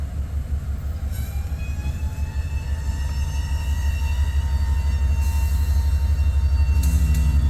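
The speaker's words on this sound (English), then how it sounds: "We got a eastbound coming out of Bailey right now." An eastbound freight train pulls out of the east side of Bailey Yard in North Platte on a January day, with a deep continuous rumble and rolling wheel noise that builds steadily louder as the train nears.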